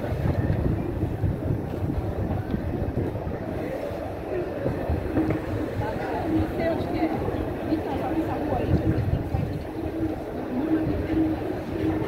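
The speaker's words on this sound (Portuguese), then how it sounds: "Aqui o escapamento da moto." A motorcycle engine idles steadily with a low, rumbling exhaust drone, close by, with wind buffeting the microphone throughout.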